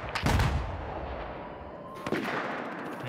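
Gunfire in a tactical shooter match, two bursts of booming shots a couple of seconds apart, heavy and reverberant at moderate distance, with no talking over them.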